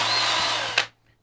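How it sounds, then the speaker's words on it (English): A power drill with a 1/2-inch bit bores into a wooden board, a steady close whine running for most of a second before a brief bite and abrupt stop, leaving near silence. "just try to keep it straight while you're drilling down on it"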